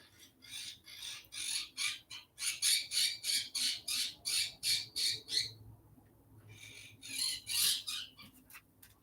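A pet bird squawks in a rapid string of loud, harsh, evenly spaced calls, breaks off briefly, then bursts into a few more, with no talking over it.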